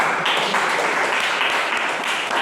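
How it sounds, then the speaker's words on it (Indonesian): Classroom group of students applauding together, a steady, dense wash of clapping that fills the space evenly from start to finish. "Tepuk tangan untuk semuanya"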